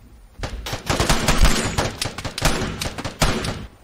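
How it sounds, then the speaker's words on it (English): Rapid video-game gunfire rattles in dense automatic bursts, loud and close, with sharp shots stacking over each other for several seconds and no voices. "getting shot at"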